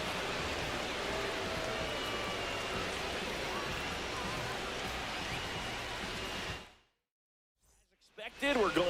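Heavy rain pours steadily in an MLB The Show 26 baseball game during a rain delay at Boston's ballpark, a loud continuous hiss that cuts out abruptly before faint noises return.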